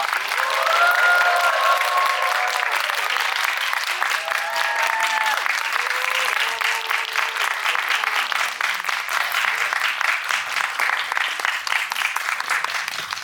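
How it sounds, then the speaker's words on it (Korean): A cinema audience claps and cheers continuously during a cast stage greeting, a dense, loud wash of applause with a few voices rising above it throughout. "여러분 다시 한번 뜨거운 박수 부탁드리겠습니다"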